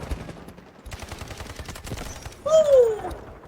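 Gunfire in the video game Delta Force, a rapid burst of automatic shots close by followed by a louder blast with a whining, falling tone.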